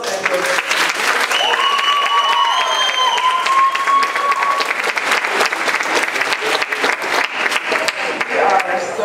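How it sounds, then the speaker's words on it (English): A college audience breaks into loud, sustained applause with scattered cheering and whoops, dense clapping filling the room from start to finish. "can you please give yourself a round of applause"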